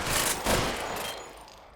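Gunfire in the video game L.A. Noire, a quick burst of loud overlapping shots followed by a long fading echo, heard up close with no voices.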